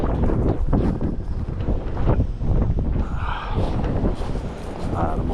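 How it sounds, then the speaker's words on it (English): Strong wind roars across the summit of Mt. Washington, buffeting the microphone in a loud, continuous rumble with gusty surges throughout. "the wind's brutal"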